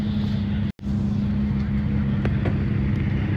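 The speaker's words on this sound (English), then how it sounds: "I can hear a car" A drift car idles at the start line of a drift practice session, a steady low engine drone with a brief cut near the start, heard from some distance.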